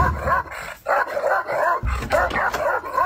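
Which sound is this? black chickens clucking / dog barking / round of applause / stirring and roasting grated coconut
dog barking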